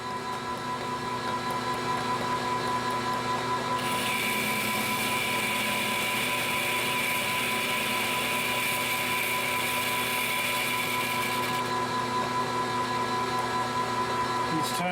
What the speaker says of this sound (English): This is probably good, 440 RPM, and we're good to go. All right, so let's take a really light pass.